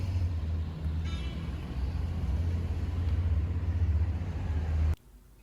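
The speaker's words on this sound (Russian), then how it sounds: "Здесь вот такой трафик." Steady low rumble of road traffic on a town street in Dilijan, Armenia, with passing car engines droning continuously before cutting off abruptly near the end.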